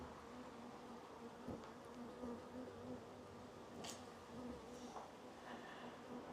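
Honeybees buzz around an opened hive during a check of the apivar strips and queens, a faint continuous insect hum with a few individual bees zipping close past now and then.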